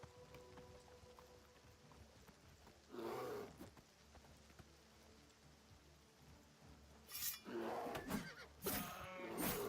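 A horse in the video game Oblivion Remastered: a faint whinny early on, then a longer cluster of neighing and snorting near the end, over a soft patter like rain, with no speech.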